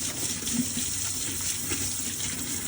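Tap water runs steadily into a sink while fresh blue crabs are washed for a crab stew, a continuous close splashing stream with no talking.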